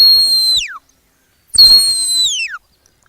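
A single sharp, high-pitched whistle used as a stop command, sounded loud and clear twice, each blast held steady for about half a second to a second, then dropping sharply in pitch at the end, with silence between.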